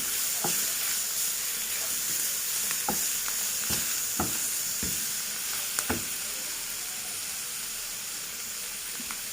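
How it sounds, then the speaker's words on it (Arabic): Chicken livers and gizzards sauté in a hot pan, giving a steady broad sizzle with scattered soft taps and scrapes from stirring, close and even throughout. "هنزل عليها بالكبد والقوانص واشوحهم تشويحة كده كمان."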